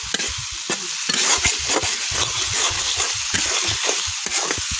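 Fish stirred into spice paste in a hot oiled pan for a village-style bele and goutom fish curry, with a steady gritty scraping of spoon against the pan over a continuous close sizzle.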